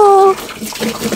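Water pouring from a tank tap in a weak stream: a brief, close splash and trickle, preceded by a short voiced sound at the start.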